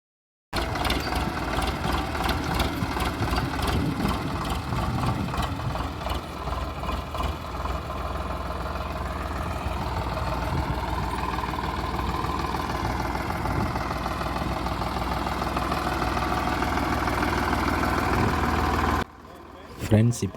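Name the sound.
Sonalika tractor engine moving off in first gear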